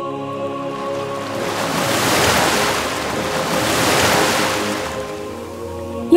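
Waves of the Arabian Sea surge at Girgaon Chowpatty beach in Mumbai, a steady broad wash of surf swelling and easing twice with some wind noise, no voices.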